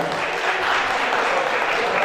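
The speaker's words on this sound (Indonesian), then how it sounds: "boleh tepuk tangan buat Om Nandang" Audience applauding for Om Nandang at a Velozity Journey 2018 gathering, a short steady wash of clapping throughout with a faint voice in the background.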